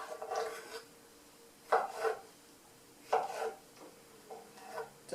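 A knife cuts through a salad on a cutting board, three distinct crunching slices spaced about a second and a half apart, close and fairly quiet in a still kitchen.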